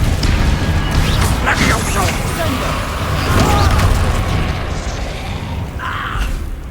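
Confringo fire spells exploding during a Hogwarts Legacy duel: repeated booming blasts and crashing impacts with magical whooshes, mixed under steady shouting and character dialogue.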